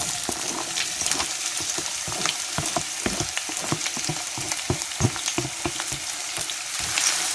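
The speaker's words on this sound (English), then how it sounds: "I throw a little piece of onion in there, and you see how it's dancing around?" Onion pieces fry in hot oil for egg fried rice, a steady close sizzle with dense crackling pops throughout and no talking.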